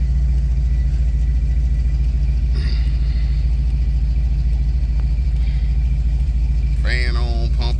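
A Box Chevy's engine runs while driving, a loud, steady low rumble throughout with a brief squeaky chirp near the end.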